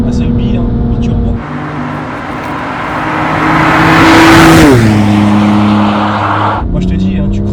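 Manhart MH2 550 bi-turbo car accelerating hard from the cabin, a loud sustained engine roar rising in pitch, shifting down after a gear change, then settling to a steady drone with a brief quieter moment near the start.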